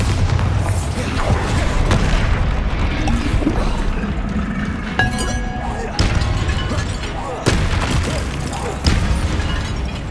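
A Bombarda spell explodes in Hogwarts Legacy combat: loud, deep booms with sharp crashing onsets burst through a dense, continuous din of spell effects, several blasts landing a second or two apart near the end.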